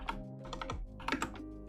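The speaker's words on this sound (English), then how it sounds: "I'm using a different keyboard right now." Quick, close keystrokes on a computer keyboard during coding, a short irregular burst of clicks and clacks with no talking.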